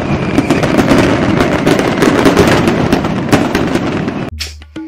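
Diwali firecrackers bursting in a dense, continuous crackling barrage with sharp loud reports, close and intense, before cutting off abruptly near the end.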